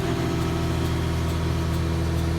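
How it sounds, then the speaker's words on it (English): A tractor engine holds steady working revs with the PTO shaft engaged during harvest, giving a loud, constant droning hum with no change in pitch. "Now my revs are where my tractor needs to be."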